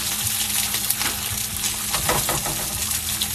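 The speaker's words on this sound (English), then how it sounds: "And then we're going to crack them in the pan." Eggs cracked into a hot pan sizzle and crackle in a steady, fairly loud frying hiss, with a few soft pops and small clinks at a home stove.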